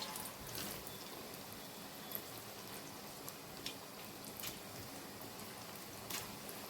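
Corn pakoda batter fries in hot oil with a steady, soft bubbling sizzle and occasional sharper pops and crackles. It is moderately close and heard alone, with no talk.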